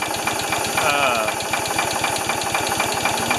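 A Ford 2600 tractor engine, freshly running after a fuel system and carburetor overhaul, idles steadily with a rapid, even low thumping close by, loud and continuous throughout.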